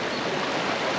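Water flowing out from under a big rock near a cave at Rydal, a close, steady, broad rushing gurgle with no pauses.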